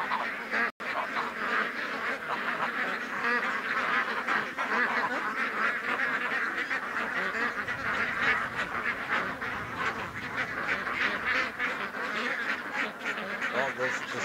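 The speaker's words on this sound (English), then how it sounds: "the geese are walking right beside Doug and I" Geese walking close by beside a lake give a dense, continuous chorus of honking and quacking calls, loud and near, with some talk mixed in.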